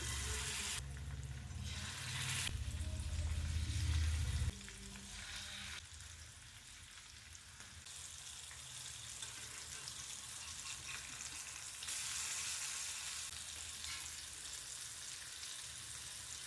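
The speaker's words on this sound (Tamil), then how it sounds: "1 ஹவர் கழித்து மீன் பொரிக்கவும் ஸ்டார்ட் பண்ணிட்டேன்." Steady crackling sizzle of fish frying in hot oil, close and continuous, with a few soft clatters of handling.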